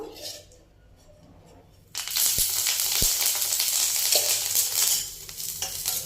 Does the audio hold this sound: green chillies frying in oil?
yes